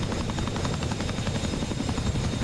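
A CH-47 Chinook twin-rotor helicopter in the DCS flight simulator drones steadily and loudly, its heavy rotor thump and engine roar continuous with no speech.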